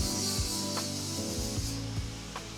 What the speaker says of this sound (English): we're gonna start sanding it down